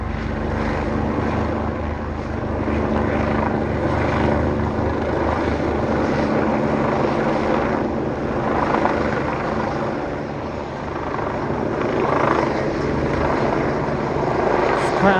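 An EC145 police helicopter from the London air support unit circles low overhead, its rotor chop and engine drone loud and continuous, swelling and easing slightly as it moves around.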